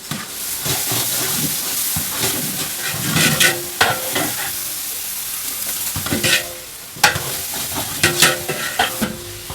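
Tomato, ginger, garlic and onion fry in hot oil while a spoon stirs the pan, giving a steady sizzle with repeated scraping clatters and sharp bursts of hissing. No one speaks.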